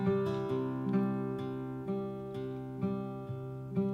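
Acoustic guitar fingerpicking a song, with the thumb alternating bass notes between the fifth and fourth strings under sustained chord tones, in a steady, moderately quiet pattern with regular plucked attacks and no voice.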